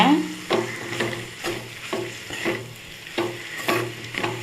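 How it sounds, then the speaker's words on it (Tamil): Flaked parai (trevally) fish puttu is sautéed in a pan with a steady sizzle, while a spatula scrapes rhythmically about twice a second, each stroke a sharp close rasp. "மீன் புட்டு மீனை சேர்த்து நல்லா வதக்கிக்கோங்க"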